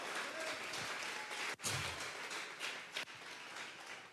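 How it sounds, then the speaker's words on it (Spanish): A church congregation claps together during a Sunday service, a steady broadband wash of applause with a couple of sharp thuds, under faint talk. "Vamos a regalarle ofrenda de palmas al Dios de la gloria."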